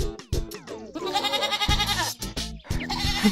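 A goat bleats repeatedly in short, loud, wavering cries, close by, with a few brief gaps between calls and little else behind them.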